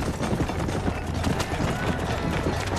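Horse hooves galloping in a chariot race in the Red Dead Redemption video game, a steady driving clatter under loud continuous game noise, with people talking over it.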